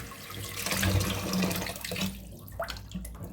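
A pan being rinsed and scrubbed under a running kitchen tap, with a steady stream of water and splashing that fades toward the end.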